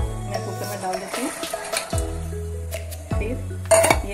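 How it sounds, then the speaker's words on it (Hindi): Soaked peas, about 250 grams, go into a pressure cooker in a home kitchen, giving several close metallic clinks and clatters of the pot with brief splashy rattles. "अब इसको मैं कुकर में डाल देती हूँ।"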